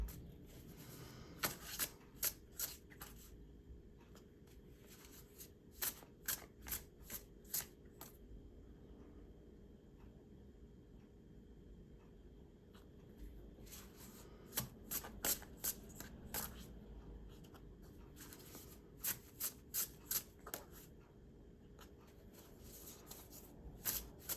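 Tarot cards are shuffled close up in repeated quick riffles and soft flicks, coming in bursts with quieter gaps between them.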